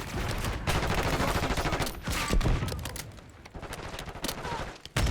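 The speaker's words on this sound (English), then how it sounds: "Enemy sniper shooting." Sustained gunfire with enemy sniper shots in the video game Black Ops 6, loud overlapping volleys and automatic bursts running almost unbroken, easing slightly before a final burst.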